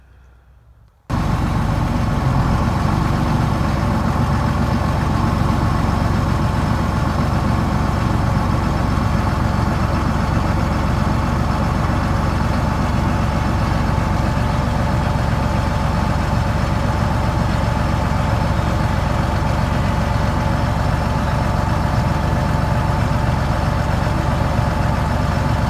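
Peanut picker harvesting machine running steadily after a sudden start, a loud, continuous mechanical drone with an engine-like rumble and auger clatter that holds constant throughout.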